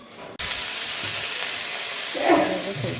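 Panch phoron spices, chili and bay leaf frying in hot oil, a steady loud hiss and sizzle starting abruptly and continuing throughout, with a brief swell of crackling toward the end.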